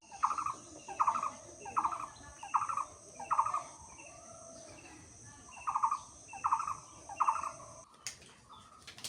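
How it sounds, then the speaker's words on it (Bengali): Birds call repeatedly at dawn in a rural village setting, a steady series of evenly spaced, fairly loud bursts over faint background ambience, with a brief knock near the end. "কি পরিমাণ যে পাখি ডাকতেছে"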